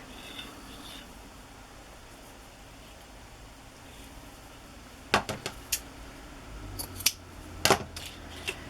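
Scissors snip through paper for the back of a decorated journal cover, a few close, crisp cuts clustered in the second half over a quiet, steady room hiss.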